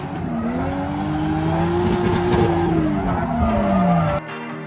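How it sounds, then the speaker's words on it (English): A car doing a burnout, tires squealing in a loud, steady wail that bends slowly in pitch for about four seconds and then cuts off abruptly. "we might do a trailer burnout"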